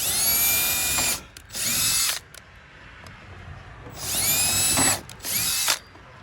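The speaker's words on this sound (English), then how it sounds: "we can drill our remaining 2 pilot holes" A power drill whirs close by in four loud bursts, drilling pilot holes to mount a security camera, grouped in two pairs with a quiet pause between them.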